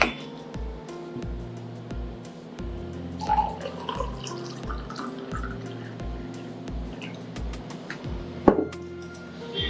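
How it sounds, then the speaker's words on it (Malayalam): Water runs and drips into a glass of Rooh Afza sharbat, a steady trickle with sporadic drops over a rhythmic low background hum, ending in a sharper splash. "ഇതിൽ നമ്മൾ വെള്ളം ഒഴിക്കണം."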